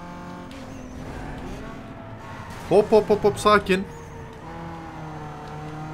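A Nissan Skyline races in the video game NFS Underground 2, its engine drone running low beneath a voice, which breaks into a short burst of rapid, emphatic syllables near the middle.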